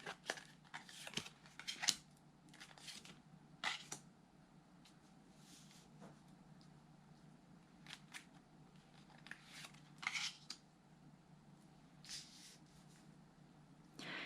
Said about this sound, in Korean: 추가 카드 뽑을게요